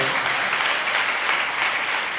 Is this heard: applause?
yes